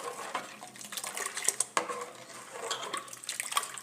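Dosa batter being mixed with water in a bowl, with wet sloshing and stirring plus a few sharp clinks of utensil against the bowl, close and moderately loud, no speech.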